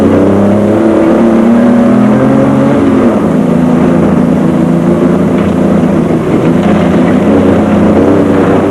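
Race cars roar loudly past in the 2001 Carnival City 400, a South African endurance race with Toyotas charging through the field, engines revving and shifting pitch continuously without pause, no talk.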